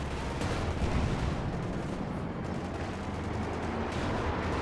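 Dense, distant gunfire and explosions from a Company of Heroes 2 battle, with a continuous rumbling barrage and overlapping bursts, steady and moderately loud, no talking.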